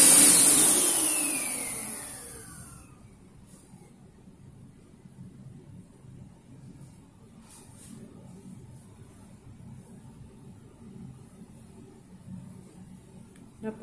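A steady, low mechanical whir of an electric hand dryer in a restroom in Hong Kong runs throughout, moderately quiet after a brief louder burst at the start.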